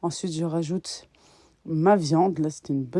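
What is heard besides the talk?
No everyday noises stand out.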